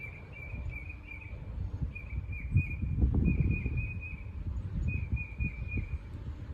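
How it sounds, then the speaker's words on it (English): A real bird in a garden sings short, repeated high phrases with brief pauses between them, fairly clear but a little distant, over low rumbling background noise. "That's a real bird, not just a recording."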